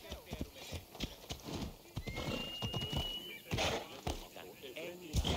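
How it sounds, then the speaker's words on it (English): Horse hooves clip-clop in a steady walking rhythm while a horse whinnies in Assassin's Creed Odyssey, with game-like effects and a voice talking over it. "This horse is doing really well."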